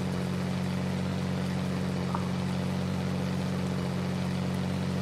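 Steady rain drumming on a truck in a Scania truck-driving game, a constant even hiss laid over the low droning engine hum, unbroken throughout.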